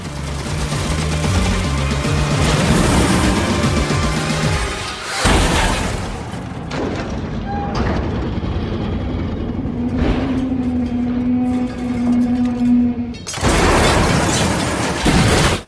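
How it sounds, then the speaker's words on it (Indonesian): A big truck fires on and smashes nearby racing cars in a film action scene: loud engine roar and revving, crashing impacts and booms, with a sustained tone midway and a sudden loud burst near the end. "Truk itu menembaki dan menghancuri mobil pembalap yang ada di sekitarnya."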